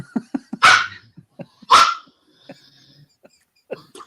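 A dog barks twice, loud and close, with softer whimpers and small vocal sounds between the barks, heard alone with no talk over it.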